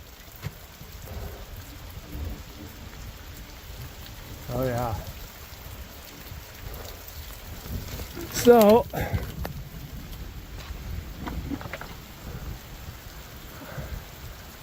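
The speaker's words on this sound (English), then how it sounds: "Well, it is absolutely pouring out there. And I'm hearing thunder as well." Heavy rain pouring down steadily with rumbles of thunder rolling underneath, a constant hiss of downpour, while someone talks briefly over it.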